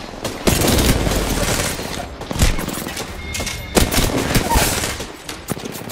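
Rapid automatic gunfire in a zombie shooter video game played on controller, dense loud bursts close up with short gaps and heavy thumps, continuing throughout.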